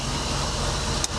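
An old barn-find BMW, rolling in reverse after sitting for 30 years, gives a steady low engine and road hum, with a brief sharp click near the end.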